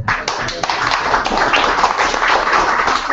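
Audience clapping after a business model canvas talk at a community meetup, a dense, steady patter of hands lasting the whole moment at moderate loudness, with some voices faintly mixed in.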